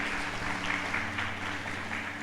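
A church congregation applauds during a service, a steady wash of clapping from many hands over a low background hum.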